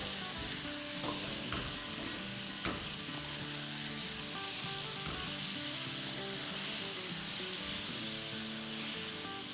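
A raw mango pickle mixture with turmeric and salt fries in a pan, giving a constant bright sizzle with soft scraping and knocking as it is stirred, with a faint tonal hum underneath.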